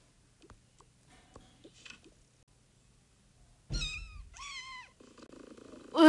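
A cat let outside in the morning meows at the door to be let back in, giving two or three clear, rising-falling meows after quiet rustling, followed by a louder noise at the end.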